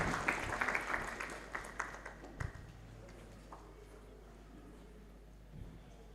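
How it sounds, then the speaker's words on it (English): Audience at an international school conference applauding a student speaker, a burst of clapping that fades within a couple of seconds, leaving low background hum and faint room noise. "Please give applause."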